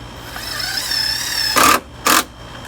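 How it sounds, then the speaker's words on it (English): Screws being driven into a wooden gate, with a faint motor whine at first, then two short, loud bursts of a power screwdriver or drill, each lasting about a quarter second. "I'm going to go ahead and put all the screws in at this point"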